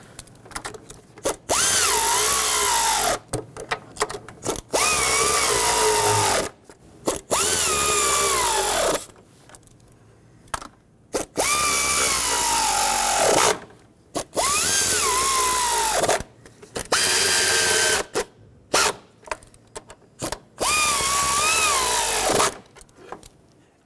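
Cordless power tool on a 2008-2020 Dodge Grand Caravan 3.6L snugging lower intake bolts during a fuel injector job: six loud, close bursts of whirring drive with rising-then-falling pitch, separated by brief pauses, no talking.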